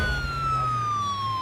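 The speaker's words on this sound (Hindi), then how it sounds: "एम्बुलेंस आ गई।" A siren wails loudly and close, a single sustained tone slowly falling in pitch over a low engine rumble.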